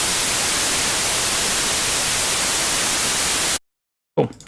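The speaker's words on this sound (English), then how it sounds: "Sorry about the burst of white noise, everyone." A steady burst of loud, harsh white noise from music production software fills the space, then cuts off abruptly into silence before a short clattering noise.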